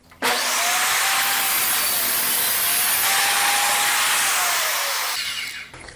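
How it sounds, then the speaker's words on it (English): A power saw rips a 2 1/4 inch wide strip from a scrap of 3/4 inch plywood, one continuous loud whining cut lasting about five seconds, starting abruptly and tapering off as the blade exits. "So I'm just taking a scrap of 3/4 inch plywood and I'll cut a strip 2 1/4 inches wide."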